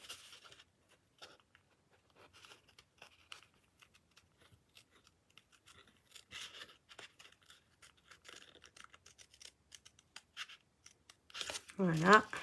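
Scissors snip and trim the edge of a paper card beside a pelican cutout, soft crisp cuts scattered through quiet talk, with a louder rustling burst at the end.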